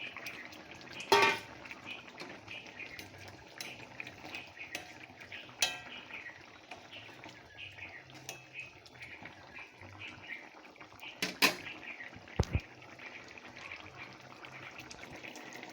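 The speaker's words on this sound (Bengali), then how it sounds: "এখন দিয়ে দেব জল।" Water is poured into a pot of simmering fish and potato curry amid gentle bubbling, with a few sharp clinks of utensils against the pot.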